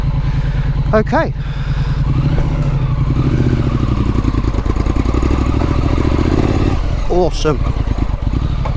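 A Triumph Street Scrambler motorcycle climbs a sandy slope, its engine a steady, close mid-pitched drone throughout, with brief spoken voices near the start and end.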